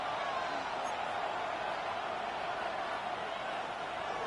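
Stadium crowd in Madden 26 during an NFL Buccaneers versus 49ers game, a steady, dense roar of cheering held at a constant level throughout, distant and broad with no breaks.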